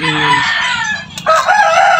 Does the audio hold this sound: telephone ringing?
no